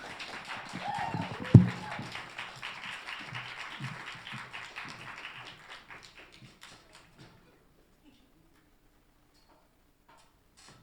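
Applause welcoming a singer to the stage at a live event, fairly faint scattered clapping with one sharp knock, fading out after about six seconds into near silence.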